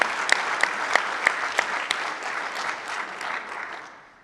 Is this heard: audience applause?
yes